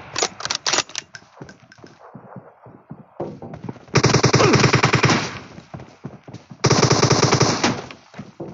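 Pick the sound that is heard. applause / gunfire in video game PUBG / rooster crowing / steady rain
gunfire in video game PUBG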